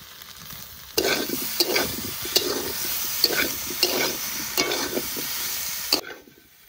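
Potatoes frying with ginger paste in a pan during village-style cooking, rhythmic close stirring scrapes over a steady sizzle that starts abruptly and stops near the end.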